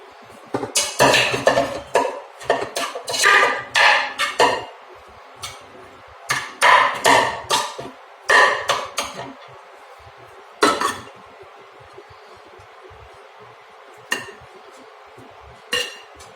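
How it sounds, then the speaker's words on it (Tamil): Rice being stirred into okra and tomato in a pan, giving repeated clanking and scraping of a metal spoon against the pan in irregular bursts, loud and close, with quieter gaps between strokes. "சாப்பாடு கொட்டிட்டு நல்லா கலரி விட்டுக்கலாம்."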